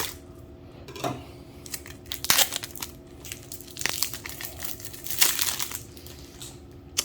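A sealed pack of trading cards for a ship card game is torn open, with close, quiet crinkling and ripping of the wrapper in irregular bursts and a few sharper crackles.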